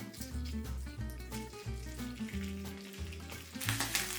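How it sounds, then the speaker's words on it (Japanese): Sliced ham frying in oil in a hot frying pan, a steady close sizzle and crackle that grows busier and brighter near the end, with no voices. "先ほど切ったハムをフライパンで炒めます。"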